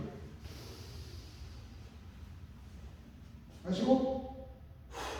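A person breathes out during a breathing exercise in a trauma-release class. After a low, steady hush, one forceful, snort-like exhale rises near the end, followed by a brief second puff of breath.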